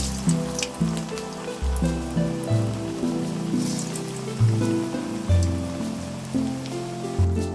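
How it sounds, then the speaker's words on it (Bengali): Red lentil fritters deep-fry in hot oil with a steady, rain-like crackling hiss that never lets up. A low droning tone runs underneath, and no one speaks. "এখন হচ্ছে ভেজে নিচ্ছি ডালের সমস্ত বড়াগুলো মসুর ডালের বড়াগুলো"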